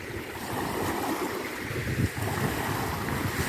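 Sea waves wash and splash steadily on a breezy autumn day in St. Petersburg, with wind buffeting the microphone throughout and no talk.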